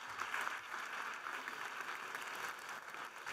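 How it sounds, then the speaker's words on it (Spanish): An audience at an agricultural forum panel on almond growing gives a speaker a round of applause, a steady, even wash of clapping that lasts the whole stretch with no voices on top. "Un aplauso a Ignacio"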